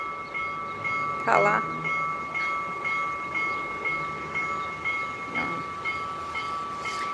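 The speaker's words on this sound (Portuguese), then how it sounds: "travessia de trem dentro da cidade de Jaraguá do Sul" A train crosses through the city of Jaraguá do Sul, with a steady crossing alarm tone ringing throughout, rumbling wheels and a couple of short horn-like blasts; a voice speaks briefly.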